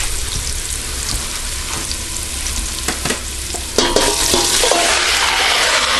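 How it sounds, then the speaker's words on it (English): Garlic and onions fry on medium heat with a steady, loud sizzle, growing brighter and more intense partway through as stirring continues, without speech. "You can see that garlic is toasting up really nicely"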